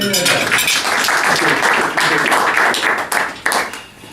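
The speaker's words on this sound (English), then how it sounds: "So give us a nice round of applause." An audience at a charity talk breaks into applause, a loud, full burst of many hands clapping together that holds steady before tapering off at the end.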